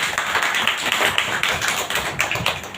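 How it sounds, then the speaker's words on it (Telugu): A church congregation claps in unison, a loud steady run of close, sharp hand claps with no break. "చప్పట్లు కొట్టండి సార్."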